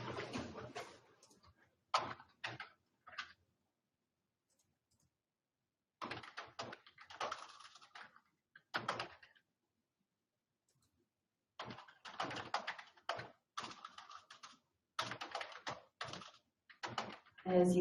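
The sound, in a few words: typing on a computer keyboard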